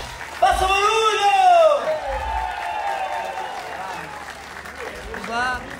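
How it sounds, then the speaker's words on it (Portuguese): Crowd applause at an outdoor summer festival show in Barreiras, a steady wash of clapping running under a man's loud, energetic voice throughout. "uma salva de palmas para este rapaz! Faça barulho!"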